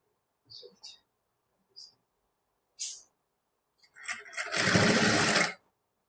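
A sewing machine stitches piping on a prince-cut blouse in one short, loud burst near the end, preceded by a few soft clicks and taps of handling.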